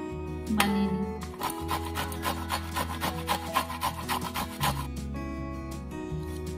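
Cauliflower stems rubbed against a hand grater, a steady rhythmic rasping scrape repeated in quick strokes, close and fairly loud, with no talk.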